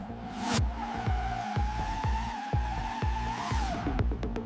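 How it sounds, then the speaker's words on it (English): A Hyundai N Vision 74 electric car with over 670 horsepower drifts, its tires squealing in a sustained high whine over a steady rhythm of low, repeated rushes, loud and close, ending in a few sharp clicks. "Vectoring enables drifting."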